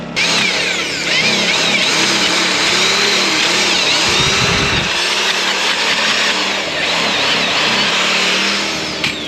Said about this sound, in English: The drill is gonna cut a nice hole for you